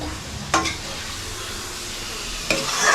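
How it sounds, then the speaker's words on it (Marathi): Pav bread rolls frying in sour butter on a hot griddle, a steady close sizzle with a couple of sharp scraping stirs as the rolls are turned. "पाव आता मस्त आंबट बटरमध्ये फ्राय करायचे"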